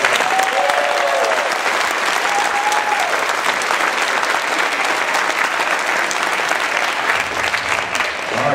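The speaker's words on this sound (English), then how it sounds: "Please give those guys a round of applause." Steady, dense applause from a crowd at a youth football camp, continuous and fairly loud throughout, with a few brief vocal whoops early on.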